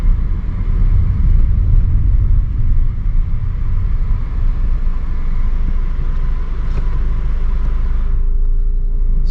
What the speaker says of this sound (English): let's check in the two-wheel drive mode and see the performance of the vehicle.